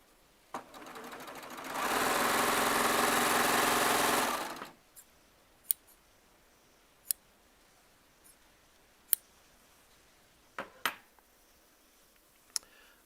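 One close, loud burst of steady buzzing comes from a Baby Lock Triumph serger stitching fabric strips for about three seconds, followed by quiet with scattered sharp clicks and taps from handling.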